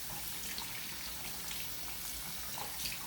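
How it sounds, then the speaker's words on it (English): Hands are rinsed of soap under a running sink tap, a steady close splash with small spattering bursts, no voices. "I'm going to rinse my hands, making sure to take off all the soap."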